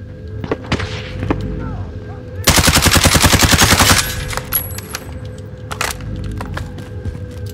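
Enemy gunfire during a video game squad match: a loud, rapid automatic burst of around fifteen shots lasting over a second, preceded and followed by scattered single cracks, with voices talking in between.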